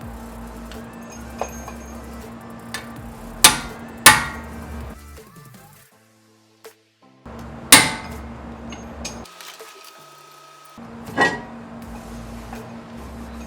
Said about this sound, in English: Grab my specialty tool. Take off the screw from the rotor.